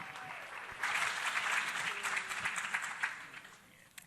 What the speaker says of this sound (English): So please, everybody, give them a huge round of applause to kick it off.